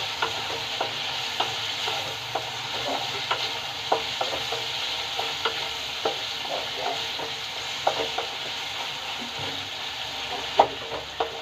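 Potatoes fry in a pan at a soft, steady sizzle while a utensil scrapes and taps against the pan in an irregular rhythm, about one stroke a second.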